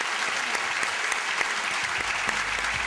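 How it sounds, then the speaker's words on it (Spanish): Audience at a football history convention applauding, a loud, dense and even burst of clapping with scattered sharper claps standing out, sustained throughout. "Les pido, por favor, un aplauso muy fuerte para este crack,"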